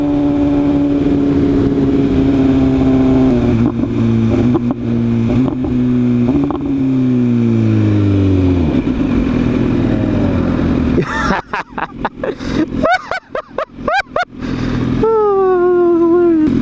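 An Audi RS3 engine roars close by with rising revs and gear changes, then sharp rumbling bursts that sound like wind buffeting or exhaust pops, ending on another rising rev.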